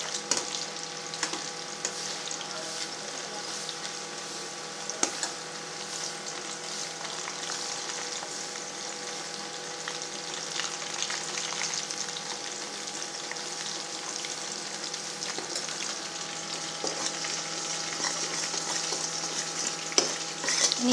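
Banana chips frying in hot oil, with a continuous bubbling sizzle, occasional scrapes and clicks as the slices are turned, and no speech.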